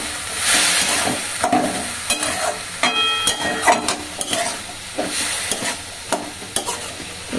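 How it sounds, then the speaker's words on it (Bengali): Ginger paste fries in a pan with a continuous sizzle, punctuated by repeated scraping stirs of a spatula at an irregular rhythm, close and clear with no talking. "একটু ভাজি। আদা বাটাটা, এই যে আদা বাটা।"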